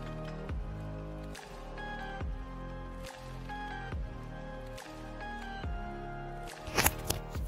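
Sap drips from a maple tree tapped with a hose, giving soft, irregular drops and small splashes at close range over a steady low background hum.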